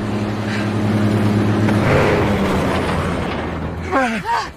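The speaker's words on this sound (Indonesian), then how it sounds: "saat melihat sebuah mobil melintas." A car drives past, its low engine hum building and then fading away, followed by a couple of brief squealing chirps.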